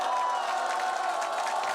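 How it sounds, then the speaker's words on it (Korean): Party members cheer and applaud as a former prime minister enters a Democratic Party members' meeting at an urban regeneration hub center in Cheongju, a steady crowd roar with clapping and whoops sustained throughout. "당원들의 환호와 박수 속에 김민석 전 총리가 입장했습니다"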